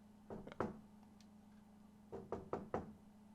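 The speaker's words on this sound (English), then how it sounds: "Is that someone knocking" Knocking on a door in an RPG Maker game: a group of three sharp raps, a pause, then four more, crisp and fairly close over a low steady hum, with no talking.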